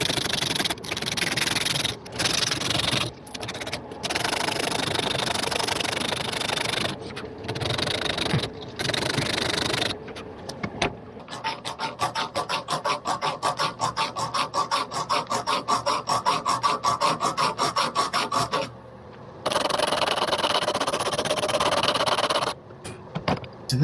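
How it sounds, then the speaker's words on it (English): Coarse 60 grit sandpaper rasps against a clamped wooden swimbait lure worked by hand, in bursts of scratchy strokes with brief pauses, then a long steady run of fast, rhythmic back-and-forth sanding, close and fairly loud. "Again, I'm using the 60 grit sandpaper."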